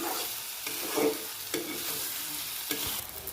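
Taro root being stirred in a hot frying pan, a few scraping strokes over a steady low sizzle, close by with no voices.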